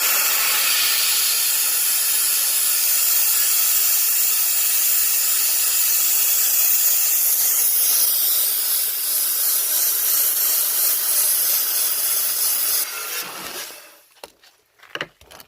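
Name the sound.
homemade sand blaster removing label and adhesive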